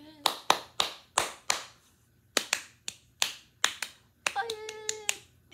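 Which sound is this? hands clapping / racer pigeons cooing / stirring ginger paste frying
hands clapping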